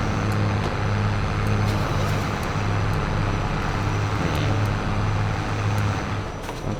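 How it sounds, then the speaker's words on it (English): Pickup truck on a farm, a steady low engine rumble with tire and road noise, close and continuous with a slight easing toward the end. "Let's pull the truck under there."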